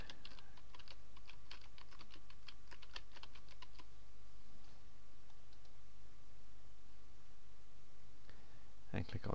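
Computer mouse and keyboard clicks in a quiet room, a quick burst of sharp taps over the first few seconds, then near silence and a final louder click, close and faint under a low hum.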